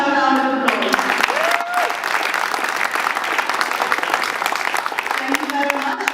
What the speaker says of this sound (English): Can I please have a round of applause?